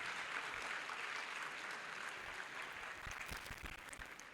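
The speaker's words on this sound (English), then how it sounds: "Please, we want a louder round of applause." A broad wash of applause fills a university induction ceremony hall, steady and fairly loud at first, then thinning slightly with some heavier individual claps and low thumps near the end.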